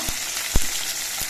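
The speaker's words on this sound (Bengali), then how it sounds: "এই আদা বাটা দিয়ে আরো কিছুক্ষণ আলুটা ভেজে নিতে হবে" Potatoes frying in oil with slit green chillies and ginger paste, giving a dense, steady close sizzle with a few soft low thumps from stirring.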